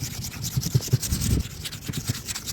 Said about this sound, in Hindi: अभी हम इसकी सैंडिंग कर रहे हैं 320 नंबर रेगमाल से।